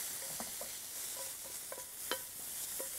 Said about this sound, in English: I can hear it sizzling, so it is ready.